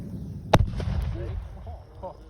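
An aerosol spray paint can bursts in a bonfire on bonfire night north of Perth, a single sharp, close bang. It is followed by a rumbling tail and crackle, and voices murmur around it.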